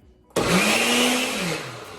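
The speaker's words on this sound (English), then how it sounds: "we're just gonna go ahead and put everything into the blender" A countertop blender starts abruptly and whirs loudly and steadily while blending chimichurri sauce, its motor pitch dipping slightly as the mixture churns.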